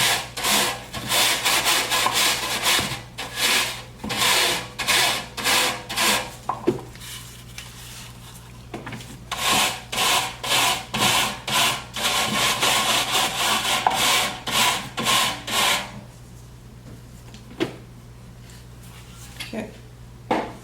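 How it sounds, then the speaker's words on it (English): A hard bristle brush scrubs in quick rhythmic strokes, coming in bursts of back-and-forth brushing with brief pauses between them. "Then with your hard bristle brush, brush down any remaining."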